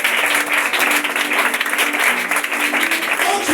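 Crowd applauding and cheering for the king at a church service, a dense, sustained burst of clapping and shouts that stays loud and even throughout.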